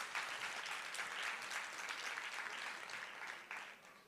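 Steady audience applause following a presentation at a parenting professional development session, a dense wash of many hands clapping heard at moderate distance, holding for about four seconds before easing slightly near the end.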